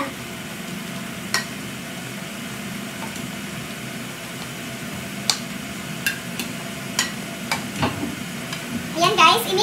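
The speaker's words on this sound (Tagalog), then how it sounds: "ilagay ko na ang ating eggplant. Para yung tomato mag-absorb siya dito sa eggplant." Eggplant goes into a hot pan with tomato and is stirred, giving a steady low sizzle of frying food with scattered scraping and clinking of a utensil against the pan, busier toward the end.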